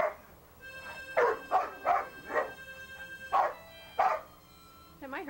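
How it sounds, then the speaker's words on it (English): A pet dog howls and yips in a series of about six drawn-out, harmonic wails, fairly close and loud, with short pauses between them. "That was funny, the howling."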